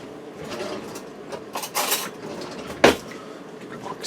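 Someone grabbing a spoon in a kitchen: a drawer slides, metal cutlery clinks and rattles, and one sharp clack lands near the end, with faint background noise between.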